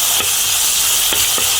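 Onions sautéing in a pan for corned beef stew, a loud continuous sizzle with a few quick stirring scrapes.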